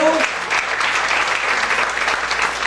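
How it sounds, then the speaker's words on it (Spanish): A church congregation at a Pentecost service claps in a loud, sustained burst of applause after a short voice at the start, with the clapping continuing evenly to the end. "Le da un aplauso al Señor"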